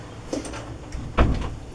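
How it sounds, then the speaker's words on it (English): A door is pushed shut in a small room, a couple of soft bumps and rattles leading to a firmer low thud at the close, near and moderately loud, with no talking. "Just want to shut the door."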